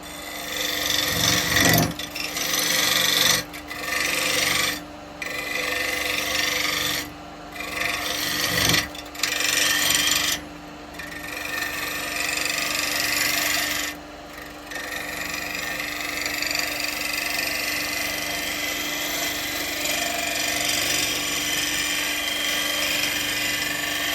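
A woodturning gouge is sharpened against a grinder or abrasive while turning a bowl from ash. The rasping whir comes steady and close, broken by several short gaps, and runs on unbroken through the second half.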